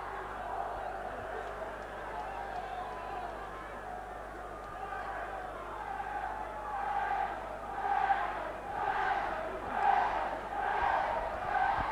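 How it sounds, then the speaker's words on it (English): Rugby league crowd at a Wigan versus St Helens Lancashire Cup match in 1985 cheering Wigan, a broad stadium roar swelling in rhythmic waves toward the end, with chanting bursts and a commentator talking over it. "Good sized crowd getting behind Wigan"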